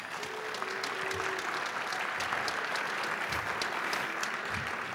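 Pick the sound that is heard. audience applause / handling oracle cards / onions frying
audience applause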